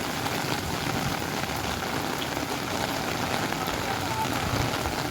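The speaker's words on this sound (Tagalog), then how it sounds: "Lakas talaga ng ulan." Heavy rain pours down steadily during a roadside traffic jam, a dense, continuous hiss that stays close and loud throughout with no break.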